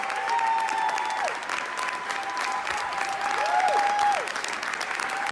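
Applause in the New York State Senate chamber, a loud, continuous crowd of clapping hands with a few thin whistle-like tones rising through it, sustained throughout without speech.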